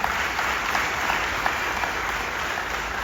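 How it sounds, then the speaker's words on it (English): A crowd applauds the Cincinnati Reds Hall of Famers, a steady, dense wash of clapping that holds evenly and fairly close throughout without letting up. "Big round of applause for the Hall of Famers."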